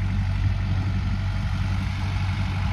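A new tractor's engine idles steadily nearby, a low, even, throbbing rumble that holds without change and with no talking over it.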